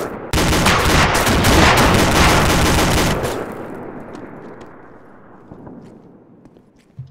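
Heavy gunfire in the military game ArmA 2 with the ACE mod: a dense, loud burst of rapid shots for about three seconds, then a long echoing decay with a few faint distant shots.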